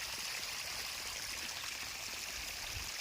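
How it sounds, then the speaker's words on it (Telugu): Water flows evenly through a low-cost drip irrigation line in a chilli field, giving a faint, steady trickling and bubbling hiss with no voices over it. "చూడండి, వాటర్ కూడా సమానంగా పోస్తున్నాయి."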